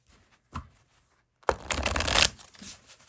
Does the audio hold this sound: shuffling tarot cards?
yes